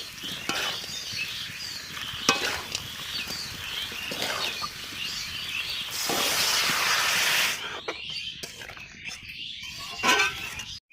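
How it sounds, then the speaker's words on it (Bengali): Water is poured into a hot pan of duck curry, setting off a loud, broad hissing burst of steam midway through, amid quieter bubbling and clattering kitchen sounds at close range. "এবার আমি জল ঢেলে দেবো।"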